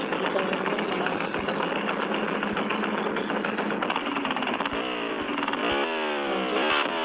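A video-game motorcycle in Roblox runs with a loud, buzzy engine and exhaust note, revving and rising in pitch in bursts, with sharp clicks scattered through; no one talks.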